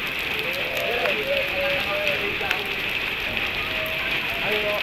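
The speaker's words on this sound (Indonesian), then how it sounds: "Lagi main hujan-hujanan." Rain pours steadily outdoors as children play and ride bicycles, a continuous close hiss of drops on surfaces with faint tonal voices and cries mixed in underneath.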